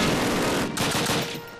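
Enemy machine gun fire in a Call of Duty campaign mission: a loud, continuous rattling burst of rapid shots, close and dense, with a brief dip before the firing resumes.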